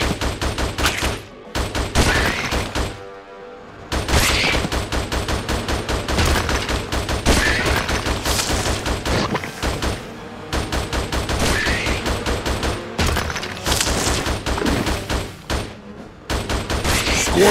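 Rapid-fire gunshots from the video game Attack of the Movies 3D crackle in long, dense bursts, loud and close, broken by a few short gaps and brief quieter stretches.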